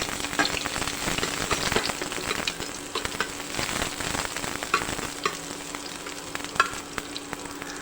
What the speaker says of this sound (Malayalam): കടുക് പൊട്ടി അതിലേക്ക് നമുക്ക് രണ്ട് വറ്റൽമുളകും ചെറിയ ഉള്ളി അരിഞ്ഞതും ഇടാം